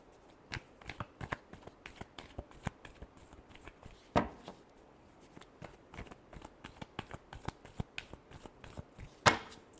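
Tarot cards are shuffled by hand in a steady run of crisp riffles and soft slaps, close and fairly quiet, with a couple of louder snaps along the way.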